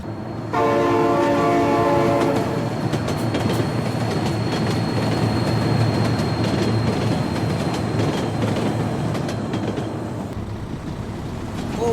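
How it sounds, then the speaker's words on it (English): A train rumbles steadily past up close with a loud horn blast at the start, its rolling wheel noise continuing for several seconds before easing off near the end. "Oh my god, train!"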